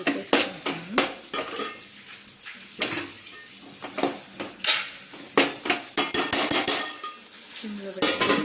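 Cabbage curry stirred in a pan with coriander powder, a metal spoon scraping and clanking against the pan in repeated, uneven strokes, close and fairly loud.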